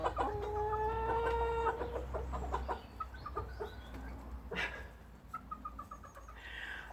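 Chickens cluck in a kept backyard flock, with a rooster calling among them; one drawn-out, sustained call at the start gives way to scattered short clucks and chirps, close and fairly quiet.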